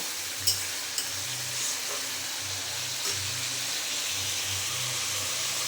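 A curry of pointed gourd and soybean cooks in a pan with a steady, close sizzle and hiss. A few soft stirring knocks sound over a low rumble in the background.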